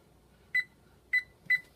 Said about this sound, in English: I'm going to set my timer so I don't forget.